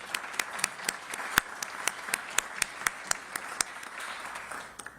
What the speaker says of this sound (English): A nice round of applause for them as well.